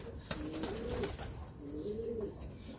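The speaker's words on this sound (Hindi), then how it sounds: "ये भी रामपुरी कबूतर है" A Rampuri pigeon cooing nearby, two soft, low, rolling coos separated by a short pause, over a quiet room background.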